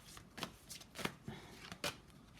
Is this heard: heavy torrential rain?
no